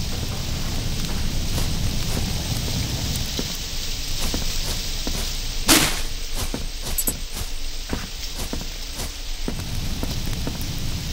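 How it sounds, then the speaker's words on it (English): Steady video game rain hisses throughout, with scattered sharp crackles and one bright pop partway through, even and unbroken. "Is there a rain effect?"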